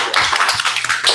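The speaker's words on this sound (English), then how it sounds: "Let's clap it up." Group clapping at a gathering, quick close hand claps in a busy, loud cluster over a brief moment.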